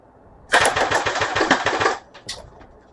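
An inexpensive airsoft gun fires a rapid burst of roughly six to seven rounds per second, a loud, close, steady rattle of shots lasting about a second and a half, followed by a couple of faint mechanical clicks.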